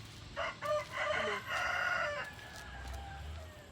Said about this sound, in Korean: 여기는 닭 닭이 하루 종일 울어요